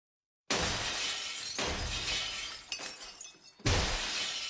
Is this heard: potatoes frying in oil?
no